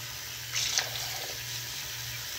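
Tap water runs as a chickens' water container is refilled indoors, a steady close splash with a brief louder gush near the start before it cuts off.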